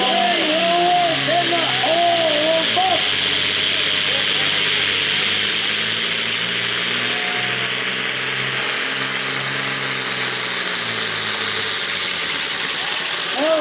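A diesel pulling truck at a night smoker pull revs hard and steady, its engine spooling up into a loud continuous roar with harmonic whine, sweeping in pitch; the sound stays near and dominant throughout.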